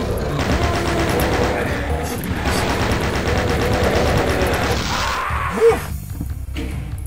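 Chaingunner enemies fire chainguns in a Doom map, dense rapid gunfire rattling continuously with impacts and a sharp thud near the end, loud and close.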